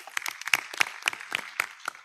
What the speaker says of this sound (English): a big hand clap for yourselves